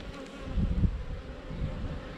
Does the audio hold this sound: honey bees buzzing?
yes